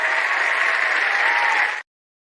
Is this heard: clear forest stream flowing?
no